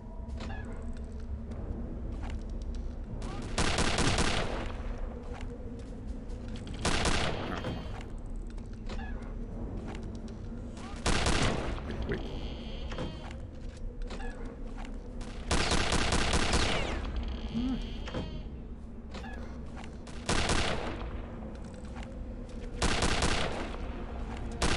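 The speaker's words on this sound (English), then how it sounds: "Just gonna have to trust my rapid fire rifle." A rapid-fire rifle in the game Return to Castle Wolfenstein fires short bursts of loud, close shots every few seconds. Each burst is about a second long, set over a constant humming game background.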